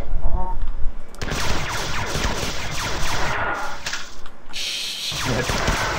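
Sustained rapid weapon fire in Marathon 2: Durandal, a sci-fi shooter, loud and continuous for several seconds with brief dips, mixed with other in-game noise.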